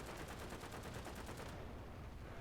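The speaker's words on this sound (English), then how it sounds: "that was my MG that took him out" Rapid machine gun fire from an aircraft gun in the War Thunder air combat game, a dense, loud, continuous rattle of evenly spaced shots that stops abruptly partway through, leaving a low engine drone.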